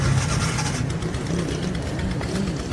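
A motorbike engine idles steadily nearby on a busy street outside a restaurant near a metro station, its low rumble continuous amid general traffic noise with no talking.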